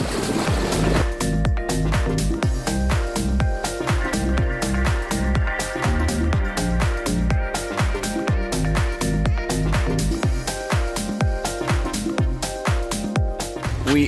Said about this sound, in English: Now we're out front on the boat.